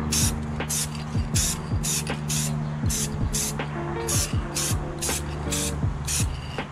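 Spray paint coat on the trim of an NC Miata steering wheel: repeated short, close hissing bursts from an aerosol can in a steady rhythm, over a faint background hum.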